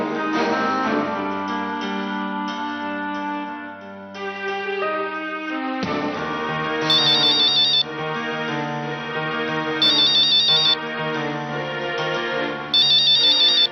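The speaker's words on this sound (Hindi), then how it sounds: "तुम्हारा फोन है।" A telephone ringtone playing indoors as a melodic, electronic tune, loud and continuous, with a brighter trilling ring pattern repeating in short bursts over the music and no talk.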